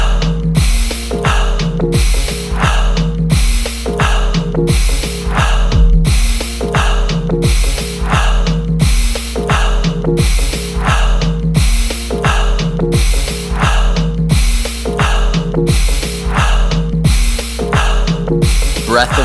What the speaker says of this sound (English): Alkaline breathing.